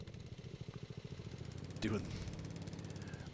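A lawn mower in Farming Simulator 19 drones steadily with a rough, pulsing engine hum throughout. A voice talks over it in the middle.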